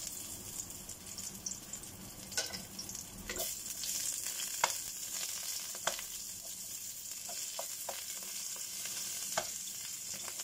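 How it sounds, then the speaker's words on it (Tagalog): Garlic sautéing in a frying pan as a home-cooked pork pata, mung bean and bitter gourd meal gets underway, giving a steady close sizzle with a few sharp crackles and clinks of stirring throughout. "Maggisa na tayo mga friendship. Maglagay na tayo ng bawang."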